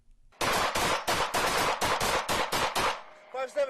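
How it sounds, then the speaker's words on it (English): Police officers fire their guns in a rapid volley of about ten loud, evenly spaced shots, with a voice heard faintly at the end. "They continue to fire."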